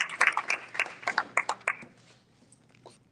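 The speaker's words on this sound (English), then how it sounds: "give your board members a round of applause" A short burst of clapping from a small group at a legislative summit in Washington DC, a dozen or so quick claps that fade out within two seconds, followed by quiet room tone.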